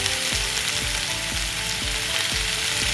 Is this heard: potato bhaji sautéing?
yes